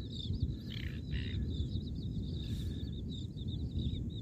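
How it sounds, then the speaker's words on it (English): Small birds chirp and twitter repeatedly at a distance on an estuary beach, their high calls riding over a steady, loud wash of surf and wind. "Beautiful bird party going on here."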